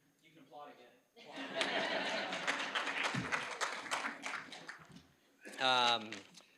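Audience applause at a business college alumni awards luncheon, a burst of clapping mixed with chuckles and light laughter, and a voice speaking before and after.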